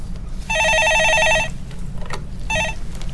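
A telephone rings on a Korean TV stock-market call-in show, one long electronic trill burst followed by a shorter second burst, loud and close with only faint studio background.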